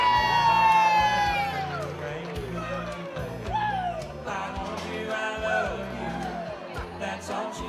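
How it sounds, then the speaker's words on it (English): Wedding guests at a ceremony cheering, whooping and clapping together, a loud crowd swell that peaks early and trails off while high shouts and whistles ride over it. "let's give them a big round of applause out there"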